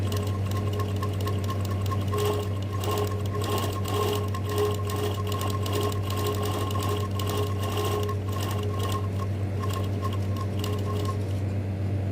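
A sewing machine stitching steadily, a continuous close rapid mechanical clatter with a low motor hum running throughout at even loudness, no voices.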